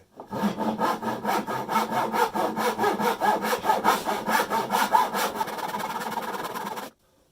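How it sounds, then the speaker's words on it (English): A handsaw cuts through Euro pallet wood with loud, steady rhythmic rasping strokes, about two per second, continuing for roughly seven seconds close up and then stopping abruptly. "I'd give this a go with a handsaw."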